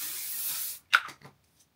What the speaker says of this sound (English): So this one is a body spray.